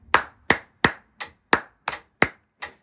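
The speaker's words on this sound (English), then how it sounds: "I'm going to turn on the metronome." A metronome ticks eight times at an even, fairly brisk pace, each sharp click close and clear against silence.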